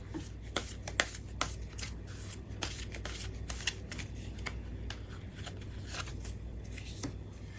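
Tarot cards being shuffled by hand, a steady run of crisp riffling snaps and soft slides repeating close to the microphone, with no talking over it.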